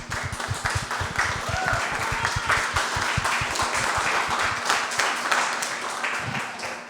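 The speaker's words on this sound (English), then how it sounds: "I do want to give the panel a round of applause" An audience at a junior college night applauds a panel with steady clapping at moderate volume, slightly muffled and room-filled, running for about seven seconds and easing slightly toward the end.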